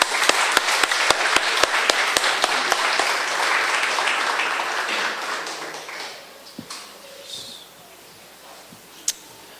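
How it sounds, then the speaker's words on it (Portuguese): A church congregation breaks into a burst of sharp, dense applause that carries for about six seconds, then thins to a few scattered claps and faint rustling in a reverberant hall. "Vamos dar uma salva de palmas para Jesus."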